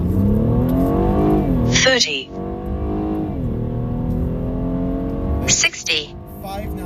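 A car launches hard from a stop on an ordinary road used as a drag strip, its engine revving up loudly through rising gears with a brief shift break, close by, while people talk over it.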